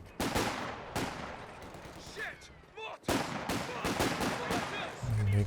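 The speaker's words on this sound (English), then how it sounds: "And there goes Luvnest mortar again." Mortar and other gunfire booming in a Company of Heroes 2 match, several loud sharp blasts spaced across the clip, with a commentator's voice faint between them.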